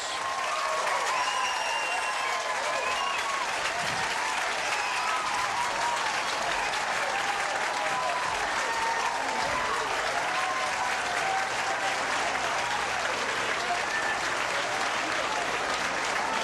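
A crowd at a bowling alley applauds and cheers a perfect 300 game, with sustained loud clapping from start to finish.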